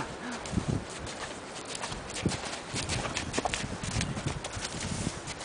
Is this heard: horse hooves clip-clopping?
yes